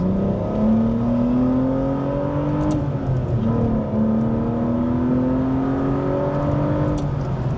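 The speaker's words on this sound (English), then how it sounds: "The entire rev range sounds amazing. V12 is exactly what you want it to be." An Aston Martin Vanquish V12 engine revs and accelerates through rising gear pulls, a smooth high-pitched drone climbing repeatedly, close and loud inside the car.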